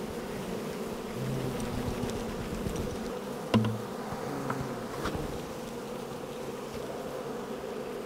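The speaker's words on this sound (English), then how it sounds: "I'm absolutely covered in bees right now." A swarm of honeybees shaken from a tree buzzes all around, a dense, steady drone with individual bees zipping close past, plus a brief knock partway through.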